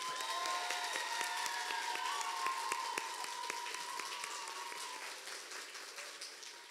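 Steady applause from a gala audience at a children's song festival in Łasin, dense clapping sustained throughout with a faint whistle or cheer in the room and a slight fade toward the end.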